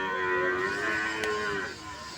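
A single head of cattle gives one long, loud, drawn-out moo at a market selling bulls and calves of Gir, Sindhi and Sahiwal breeds, alone without talk.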